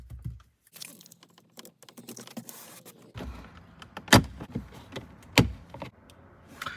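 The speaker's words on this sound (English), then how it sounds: "I ended up just prying with my fingers here, just because the tool that I have, it doesn't really do a good job of getting enough leverage to remove this cover" Scattered clicks, scrapes and two sharp snaps as fingers pry an interior trim panel off a Ford F-150, close and irregular with quiet gaps between.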